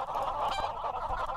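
Honking, clucking chicken calls from a video game chicken farm sound continuously over a steady background, fairly quiet and a bit synthetic, with no voices.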